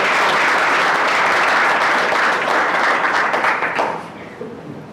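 An audience at a Salford City Black History Month event gives a councillor a warm round of applause, loud and sustained before tapering off into quiet room tone.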